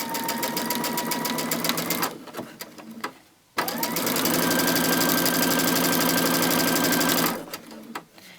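Sewing machine fitted with a quarter-inch foot stitches quilting fabric in steady, rapid bursts of mechanical whirring, with a brief pause near the middle and the motor stopping toward the end.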